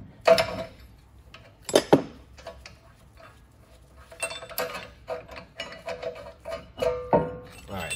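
Ratchet work loosening a bolt on a Dodge Caravan rear brake, close metallic clicks and creaks in short irregular bursts with brief pauses between, with no talking.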